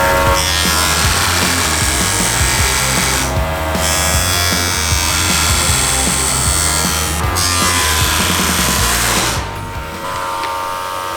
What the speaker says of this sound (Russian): С бутылкой пила справилась очень легко.